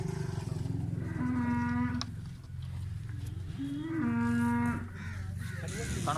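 Friesian cross cows for sale in Pakistan give two long, loud moos, the first trailing into a lower groan, then a second deep call, close by with farmyard noise behind.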